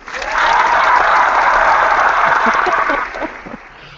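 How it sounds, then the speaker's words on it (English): A lively round of applause from a small group swells quickly, stays loud and full for a few seconds, then tapers off into scattered claps. "It's a round of applause"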